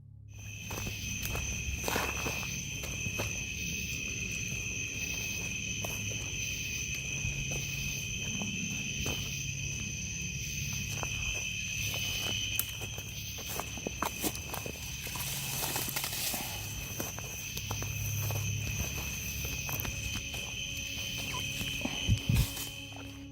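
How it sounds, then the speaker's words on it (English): Footsteps crunching through dry leaves on a forest floor at night, in a steady walking rhythm close by with a few sharper snaps, over a constant high insect chorus. "the crunch of leaves underfoot"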